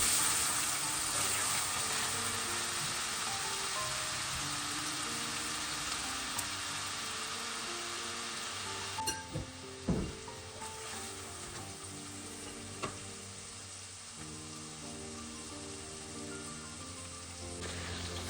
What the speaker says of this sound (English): you need to stir until the onions and the garlic are nice and soft